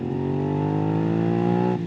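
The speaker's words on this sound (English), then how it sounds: "the V-twins on these bikes, they are naturally 270-degree firing order, so you get that lovely growly sound" A Suzuki SV650's 270-degree V-twin engine holds a steady growling idle, deep and close, with a smooth uneven-firing throb that drops slightly at the very end.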